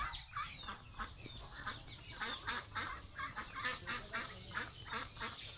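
Ducks at a wooden duck house beside a village pond give a dense, steady run of overlapping quacks and honks, moderately near and continuous throughout.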